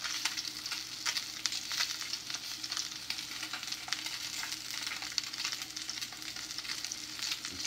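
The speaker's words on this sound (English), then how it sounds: "You sear it up." Salmon sears in a hot pan with a steady, close, dense sizzle that crackles evenly throughout, with no talking.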